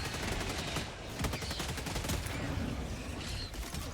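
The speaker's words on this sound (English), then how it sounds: "I'm just using my gun to pick off targets one at a time" A player's gun in Helldivers 2 fires continuously, buried in a dense, roaring battle din with few separate shots standing out, at moderate volume throughout.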